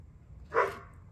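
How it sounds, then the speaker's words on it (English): A single short bark from a dog in an indoor crafting room, fairly close and sharp against a quiet background. "That's my dog."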